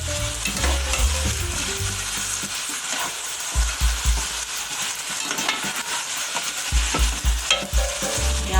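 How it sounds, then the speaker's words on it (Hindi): Chicken pieces frying and being stirred with ginger, garlic and onion in a pan for achar gosht, loud continuous sizzling with scraping stir strokes and bumps, no talk. "चिकन डालने के बाद हम इसको अच्छी तरह से भून लेंगे। ये अदरक लहसुन और प्याज में अच्छे से भून लेंगे।"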